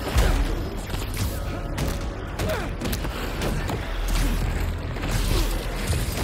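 Enemy gunfire in Spider-Man 2 on PS5, a dense, continuous barrage of shots and crashing impacts with booms and thuds throughout, loud and busy with no clear gaps.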